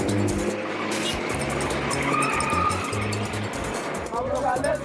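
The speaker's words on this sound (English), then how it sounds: "my taxi driver has to fight his way through Khartoum's chaotic traffic" Taxi pushes through chaotic Khartoum street traffic, engines revving and throbbing close by and tires squealing, with horns and bustle around it and a voice talking over the din.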